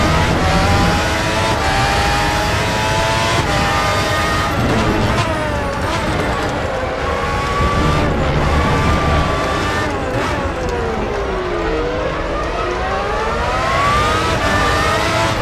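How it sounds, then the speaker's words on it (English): The V12 engine of an FR X-90 race car screams in RaceRoom Racing Experience at Paul Ricard Short, loud and continuous, its pitch climbing through gears and falling on downshifts, with a voice talking over it throughout. "I just never get tired of that sound at the back of the car. That V12 engine."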